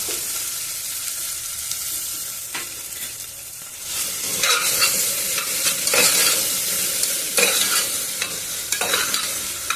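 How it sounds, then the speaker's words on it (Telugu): Okra fries in a couple of spoons of hot oil in a cooker, a rising sizzle with repeated ladle scrapes and clinks against the metal, growing louder after a quieter start, with no talking. "బెండకాయలు వేయించుకున్నాము."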